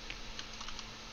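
Computer keyboard typing, a few light clicky keystrokes close to the mic over a steady background hum from a running computer.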